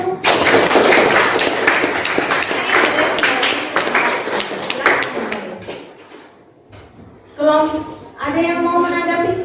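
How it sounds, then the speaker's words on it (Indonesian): Classroom applause for group 1, a dense burst of clapping from the students lasting several seconds, loud and close, fading out before people begin talking. "Aplaus dulu buat kelompok 1."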